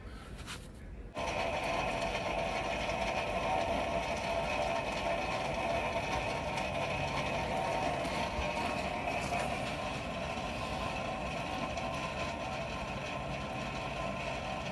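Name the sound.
blacksmith coal forge side-draft hood running at full blast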